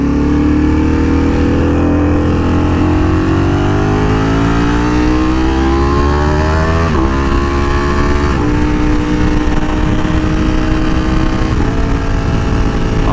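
A Ducati Panigale V4R motorcycle revs loud and close, its engine note climbing steadily before abrupt gear shifts around the midpoint and later, then pulling on at a high, sustained pitch.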